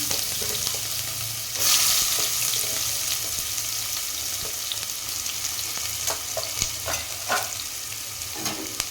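Chopped onion frying in oil with cardamom for kaju paneer masala, a loud steady sizzle with a brief hiss as it hits the pan, then repeated spoon scrapes and taps while stirring.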